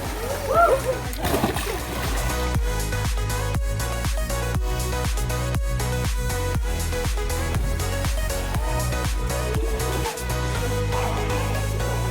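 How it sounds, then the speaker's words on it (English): Water thrashes and splashes loudly in repeated surges, close up, with a steady churning rhythm and some faint voices mixed in. "That was a big splash."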